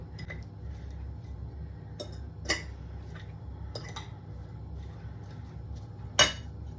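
Cottage cheese with cranberries stirred in a bowl: quiet scraping with a few sharp clinks of a utensil against the dish, two louder knocks standing out, over a low room hum.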